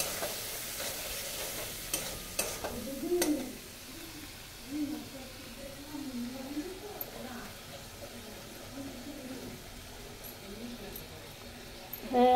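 Banana flower sizzles softly in a pan while a spoon stirs and taps against it, a quiet frying hiss with a few clinks, someone talking intermittently and birds cooing faintly nearby.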